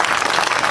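A short burst of dense audience applause at a Hindi comedy poetry show, loud and close, with many hands clapping together and no voices over it.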